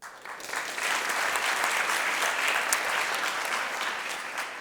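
An audience at a conference applauds steadily, a dense, even wash of many hands clapping close and loud for several seconds with no talking over it.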